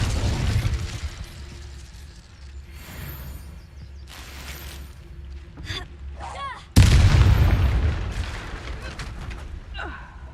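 A bridge blown apart in the video game Hogwarts Legacy, with scattered magical pops and crackles before a sudden loud booming blast that rumbles and fades, and a voice talking faintly at times.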